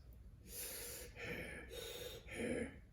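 A voice imitates a monster's panting with about four heavy, breathy, snorting pants in a row, close and fairly quiet.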